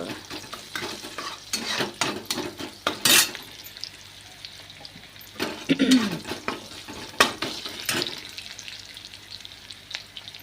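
Onion frying in oil in a pan, with a steady sizzle and frequent clattering scrapes of a utensil against the pan, close by and of moderate loudness.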